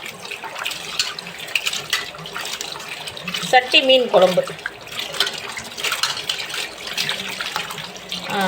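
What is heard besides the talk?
tap water running while washing fish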